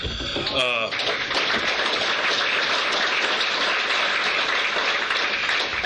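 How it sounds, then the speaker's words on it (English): Applause from an Alcoholics Anonymous meeting audience in Traverse City, Michigan rolls on steadily and loudly, many hands clapping in a dense wash, with a brief voice at the very start. "I know you guys know that I appreciate your applause"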